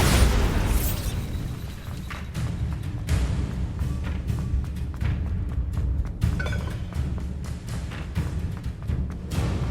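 A Bombarda blasting spell goes off in Hogwarts Legacy, a sharp explosive burst followed by sustained rumbling, crackling debris and low booms, loud and with no talking.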